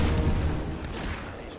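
Mortar artillery fires in a Fable 3 battle as a dense, continuous rumble of booming blasts, loud and close, with no gaps.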